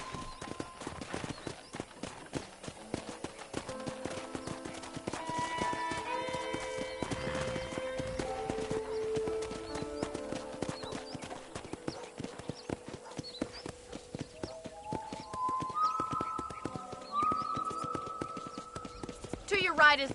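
A horse's hooves clip-clop at a steady riding pace in the video game Red Dead Redemption, a continuous rhythmic patter under background music and talk.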